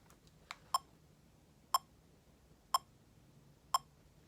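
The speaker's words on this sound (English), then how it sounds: "I'm going to set my metronome at 60 beats per minute." Metronome set to 60 beats per minute, sharp, faint clicks landing once a second in a steady, even beat against near silence.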